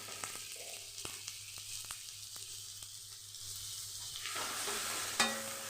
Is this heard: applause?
no